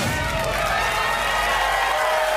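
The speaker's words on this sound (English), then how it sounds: "They're actually cheering." A studio audience cheers and applauds loudly and continuously, a dense wash of clapping and whoops close and full for a couple of seconds.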